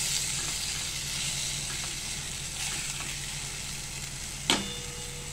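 Onion, garlic and masala sautéing in a pan for a poori bhaji, giving a steady, moderate sizzle throughout with a single sharp clink near the end.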